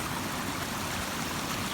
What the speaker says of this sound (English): The water always trickles from, let me show you. The water flows.